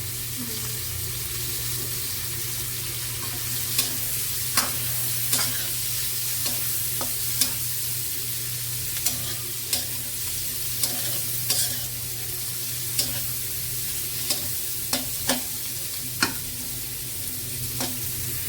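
Chopped onion, green chili and garlic sizzle in hot oil in a pan while a spoon stirs and scrapes in sharp, irregular clicks over a steady frying hiss.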